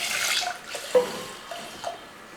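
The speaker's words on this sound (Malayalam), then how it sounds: "കുറച്ച് വെള്ളം ഒഴിച്ച് നമുക്ക് ആദ്യം ഇതൊന്ന് വേവിച്ചെടുക്കണം." Water is poured over horse gram in a cooking pot, giving short splashing bursts and a few light drips, close and fairly quiet with no talk.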